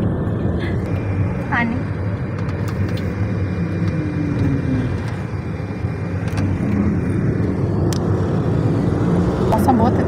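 A car cruises along a long road, a steady low engine and road rumble running throughout beneath people talking inside the vehicle.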